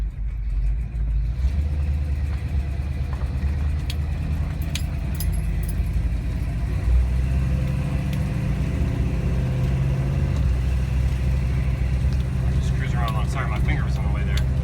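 A 1978 Dodge Ramcharger with headers and dual exhaust drives along, its engine a low, steady rumble. Someone talks over it, and there are small cabin rattles and clicks.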